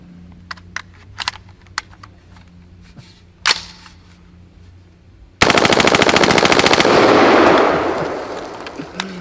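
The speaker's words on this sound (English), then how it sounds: "let's go full auto. Wow, it doesn't take long, does it?" Firearm fired on full auto through a full magazine: after several scattered clicks and handling knocks, a loud, rapid burst of shots lasting about two seconds, its echo trailing off afterward.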